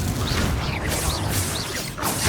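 A Confringo blasting spell from Hogwarts Legacy goes off in a dense, sustained burst of crashing, whooshing impacts during combat, loud and continuous for a couple of seconds with no speech.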